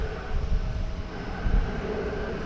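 An airplane at DFW Airport roars close by, a steady broadband engine rumble with low-end surges holding throughout; no talking.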